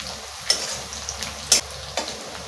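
Onion frying in a pan for a soybean and egg curry, a faint steady sizzle with a few sharp stirring scrapes and clinks spaced about a second apart.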